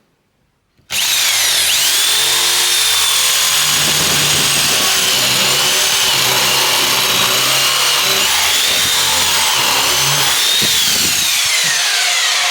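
A Black & Decker BDHD500 corded hammer drill bores a 14mm hole, snapping on after a brief silence into a loud, continuous whine with a gritty, rattling bite that holds steady for the rest of the clip.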